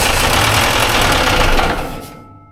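A Volkswagen Beetle ute engine coming to life, with a loud, rough, rapid chugging that runs steadily for about two seconds, then dies away.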